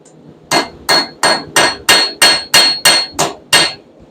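A press strikes hot steel being forged into a hummingbird head, giving about ten loud, evenly spaced heavy thuds, each with a short decaying ring, close by and with no talk.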